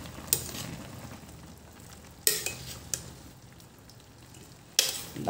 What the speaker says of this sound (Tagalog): Siyempre, halo-haloin natin to.